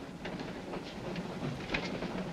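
A train runs in a horror film set aboard a train: a steady, low rolling rumble with faint rhythmic clanks and rattles, moderately loud and continuous, with no talk over it.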